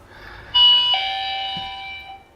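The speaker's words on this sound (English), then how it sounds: "So it links onto a doorbell, and that has a camera." A small home doorbell linked to an intercom camera system rings a clear two-tone ding-dong chime. It sounds close and moderately loud, with the second tone lingering briefly before fading.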